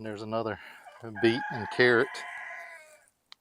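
A young rooster, only recently started crowing, lets out a crow in a backyard food-forest garden while someone talks close by. The crow trails off into quiet.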